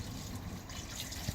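Water trickles and pours into a brisket smoker setup that is already hot, a steady close liquid stream with no talking.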